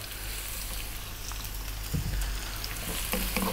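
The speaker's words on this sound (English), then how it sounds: "In there I've got 3 tablespoons of corn oil. We're going to drop in all of the garlic." Garlic and onion sizzle over high heat in corn oil, a steady hiss with a low rumbling hum beneath and a few faint clinks, heard close and without talking.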